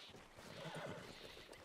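A horse whinnying in the video game Red Dead Redemption 2, one faint descending neigh over soft background sound.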